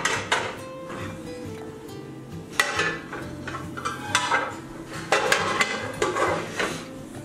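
A cast iron pan is set back onto a stack at the back of a stove, with several heavy metallic clanks and scrapes, close and fairly loud, spread across a few seconds.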